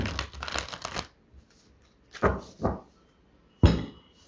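Oracle cards being shuffled by hand, a riffling flurry of papery flicks followed by a few separate shuffles and a sharp final tap, close and fairly quiet with pauses in between.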